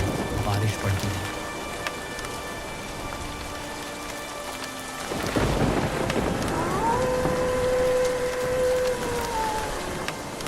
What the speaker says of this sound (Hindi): आसमान में बिजली कड़कती रही और ज़ोर ज़ोर से बारिश पड़ती रही।